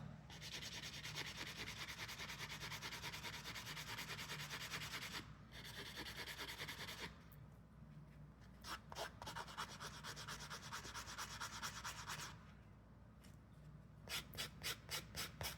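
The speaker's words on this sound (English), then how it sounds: "I'm going to buff those out and softly bevel the edge." Buffing and softly bevelling the edge of a wire jewellery component for decorative chain and earring pieces gives a steady, close abrasive rubbing, broken by short pauses and then rapid repeated strokes.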